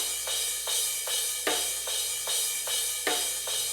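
Drum overhead cymbals with an EQ cut applied, crashing and washing in a steady rhythm with several strong hits, bright and sustained, close and fairly loud with no voices.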